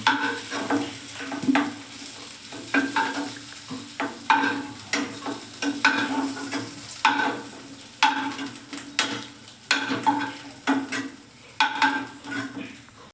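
Fried potatoes lifted out of a karahi with a spatula: repeated scraping and stirring clatters over a steady oil sizzle, with rhythmic metallic strokes close up and no talking.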